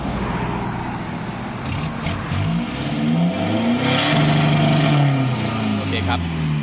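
A remapped 1.9 diesel pickup engine fitted with a smoke on/off switch, revving up in a few rising throttle blips with a loud, close growl, while people talk over it.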